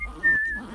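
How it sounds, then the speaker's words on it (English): A brief, casual single-note whistle, sustained and clear, over faint game background sound. "Casual whistle."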